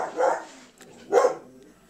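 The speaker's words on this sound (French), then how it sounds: "C'est mes chiens, évidemment." Two dogs at home barking, two separate short bursts of nearby woofing about a second apart, with quiet between them.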